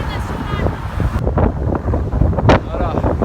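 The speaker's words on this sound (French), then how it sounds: "maintenant c'est le vent" Wind gusting against cyclists riding a bike path along the Rhône, a broad rumbling roar buffeting the microphone throughout, with brief bursts and some voice under it.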